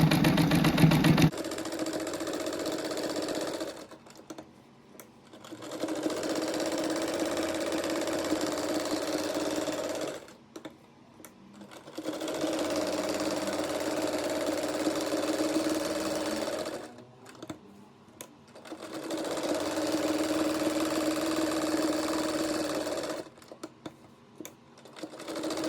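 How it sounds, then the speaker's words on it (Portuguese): A sewing machine stitches denim in four long runs separated by short pauses, a fast steady mechanical whirr close by and fairly quiet. "Agora eu vou fazer uma costura a largura de um pé de máquina aqui."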